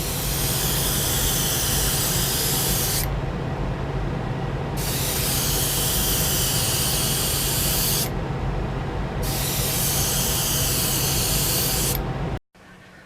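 Airbrush spraying a coat of gold paint, three long bursts of hissing spray separated by brief pauses over a constant low compressor hum, ending abruptly.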